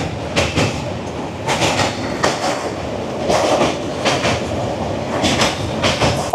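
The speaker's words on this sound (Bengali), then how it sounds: "পাটিয়ে টানছে আমাদের শিয়ালদা রাজধানী" The Sealdah–New Delhi Rajdhani Express runs past Dakshineswar with rhythmic clickety-clack wheel beats over the rails and a steady rumbling roar, heard close and loud from on board the train.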